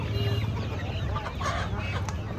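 Kadaknath chickens and turkeys at a busy poultry market cluck and call amid a dense, noisy background of crowd murmur and ambient clatter.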